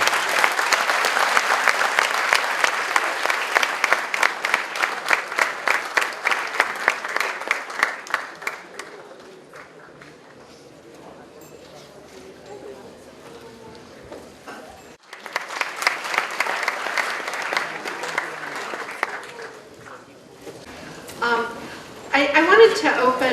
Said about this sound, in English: Ladies and gentlemen, please give a huge round of applause for Dr. Barrett.